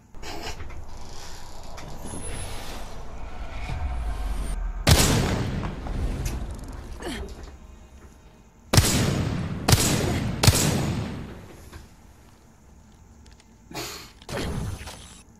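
Bursts of gunfire in Apex Legends: several loud, sharp volleys with booming impacts spaced irregularly over quieter stretches, close and punchy.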